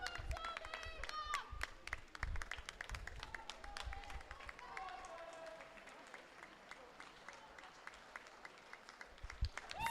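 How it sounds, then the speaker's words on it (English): A crowd at a swimming gala claps and cheers for a swimmer coming in to finish a race, with loud, steady applause mixed with cheering and babble and an announcer talking over it. "give Toby a big cheer in"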